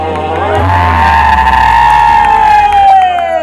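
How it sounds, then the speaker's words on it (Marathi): A crowd at a sangeet cheers for the couple with one long, drawn-out whoop over a steady roar of voices. Applause is not clearly heard. "ये टाळ्या टाळ्या दोघांसाठी टाळ्या"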